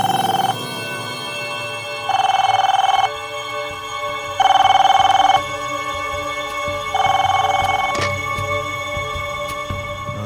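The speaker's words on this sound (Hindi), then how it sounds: "उस रात जब तुम सो रहे थे तो वहां पे एक फोन आया था" Old-style telephone bell rings in four long bursts separated by short gaps, loud and close, over a faint room tone with no speech.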